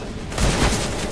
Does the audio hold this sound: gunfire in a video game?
yes